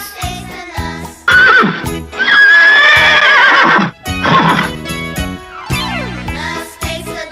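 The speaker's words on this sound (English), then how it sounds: "the Horse." Horse neighing loudly in long whinnies between clip-clop hoof beats and light jingling, set within a bouncy children's farm-animal song with instrumental backing, no speech.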